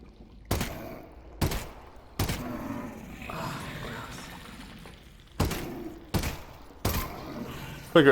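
Gunfire in the VR shooter Half-Life: Alyx: six sharp, loud shots in two clusters of three, separated by a stretch of quieter clattering and rumbling game ambience.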